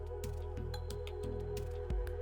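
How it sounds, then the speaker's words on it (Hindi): Realme 15 Pro phone playing its water-ejection tone, a faint, low, steady buzz from the speaker pulsing in quick regular bursts with small wet crackles, heard close and alone. "देन एक साउंड आएगी जिससे पानी बाहर निकलेगा"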